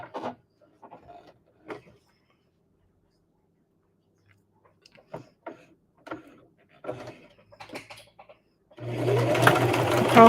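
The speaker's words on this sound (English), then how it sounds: "now we're going to sew a little stitch" A sewing machine runs steadily near the end, stitching across the bottom of a small keychain wallet after a stretch of quiet handling noises and soft clicks.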